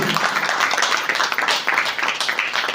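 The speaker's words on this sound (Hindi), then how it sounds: "मैडम के लिए भी जोरदार ताली हो।" An indoor audience at an achievers' celebration claps steadily and loudly for a woman, a dense, continuous burst of applause lasting a few seconds.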